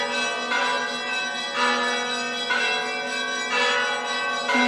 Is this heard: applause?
no